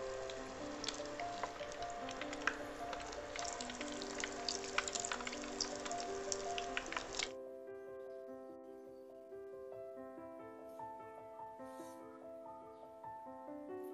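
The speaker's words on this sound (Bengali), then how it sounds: "এবার এগুলো দিয়ে দিচ্ছি আর গোল্ডেন ব্রাউন করে ভেজে নিতে হবে।" Pieces of fried milk dessert (leche frita) sizzle in hot oil over medium heat, a soft, steady frying hiss for about seven seconds before music takes over for the rest.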